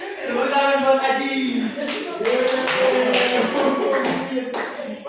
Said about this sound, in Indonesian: tepuk tangan buat Haji